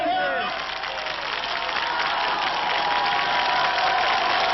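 A dense crowd at Château-Chinon greets the new president, its cheering and clapping merging into a loud, unbroken roar that carries voices throughout.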